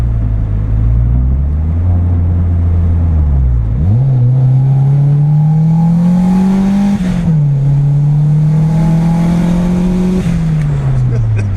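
Turbocharged Honda D16 engine fitted in a Suzuki Vitara revs hard under boost, its loud steady drone climbing in pitch, dipping briefly at each shift and climbing again, with road and intake noise throughout.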